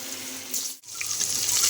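Potatoes drop into hot oil in a wok that already holds white cumin seeds, giving a loud, continuous rushing hiss that briefly dips and then swells again; no speech is heard.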